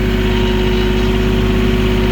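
A tractor stuck in swampy mud idles steadily and close by, a continuous low, throbbing engine hum with no voices.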